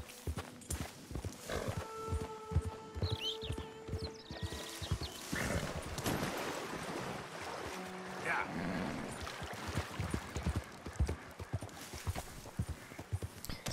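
Horse hooves clip-clop steadily with occasional whinnies in Red Dead Redemption 2, riding along amid game ambience and music, while someone talks in French over parts of it.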